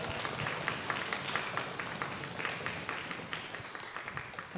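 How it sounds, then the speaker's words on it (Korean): Welcoming applause from a church congregation, with foot stamping meant to join the clapping. Dense, continuous clapping rolls on for several seconds, moderately distant and even, with no voices on top. "발을 구르면서 큰 환영의 박수를 하겠습니다"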